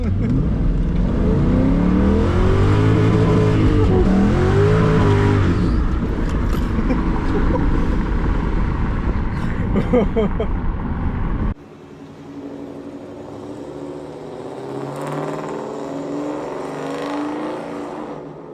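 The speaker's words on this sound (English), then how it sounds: "How is it driving a manual swapped 2003 Mercury Marauder?" A 2003 Mercury Marauder swapped to a five-speed manual roars loudly and close, its engine note rising and falling through revs, then drops to a quieter, steadier drone as the car drives on.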